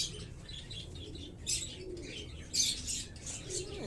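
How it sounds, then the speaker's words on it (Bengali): Pigeons in a home loft of fantail and flying birds, with soft chirps and coos and a few short bursts of flapping wings over a low background murmur, close and moderately quiet. "এখানে কয়েকটা পায়রা উঠেছে"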